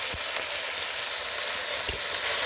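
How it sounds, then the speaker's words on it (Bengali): Spice paste of turmeric paste, chili powder and cumin powder fries in a pan for a lentil fritter curry, a steady close sizzle with a few soft scraping taps from stirring. "ভালো করে মশলাটা কষিয়ে নিতে হবে।"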